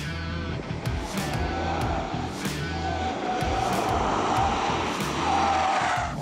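Tires squeal in repeated bursts over the steady roar of a VW Arteon's 2-litre engine as the car is pushed hard around a track, its tires starting to wear out.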